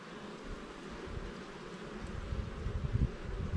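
Honeybees hum around hive comb during a queen-cell inspection, a close, constant buzz with light rustling and handling noises growing louder toward the end.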